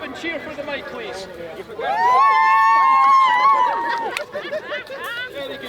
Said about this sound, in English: Could you whoop and cheer for the mic